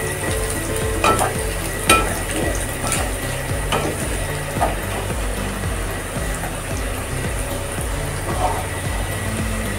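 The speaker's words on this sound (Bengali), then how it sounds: "ডালটা দেওয়ার পর এখানে আমি 1 মিনিট মতো নাড়াচাড়া করে নেব।" Moong dal frying in a pan, stirred continuously: a loud, close, steady sizzle broken by scraping strokes and periodic clacks of the spoon against the pan.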